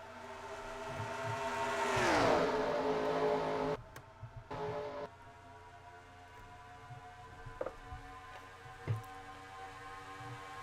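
NASCAR Racing 2003 race cars in a Winston All-American Series game event. One car sweeps past with a rising then falling engine whine, then a low, steady drone of distant engines continues with a few small knocks.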